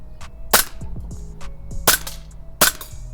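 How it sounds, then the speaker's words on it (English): A BB pistol fires three sharp, loud cracks spaced about a second apart, with light mechanical clicks and rattles between the shots. "Shoot that last BB out."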